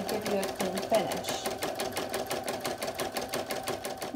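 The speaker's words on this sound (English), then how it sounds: "we also have the final stitch, which is going to close your front and back pieces" An embroidery machine stitches an in-the-hoop felt appliqué piece, its needle pounding in a fast, even rhythm with a whirring motor tone, close and steady throughout with no speech.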